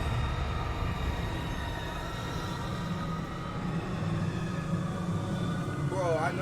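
A subway train rumbles past steadily in the subway horror video game Golgotha, a dense continuous roar with rising squeal-like tones near the end, mixed under player chatter.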